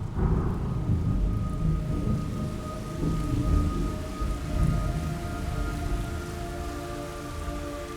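Steady rainfall pours down in the video game Metal Gear Solid Delta: Snake Eater, with rolling thunder rumbling underneath, while a faint sustained tonal drone hangs in the background.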